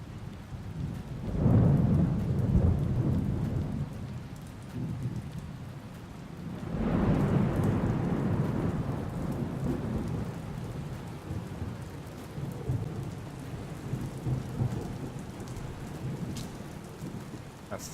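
Steady rain falls in the Onward video game, with rolling thunder swelling twice at moderate distance before fading into continuous rain ambience.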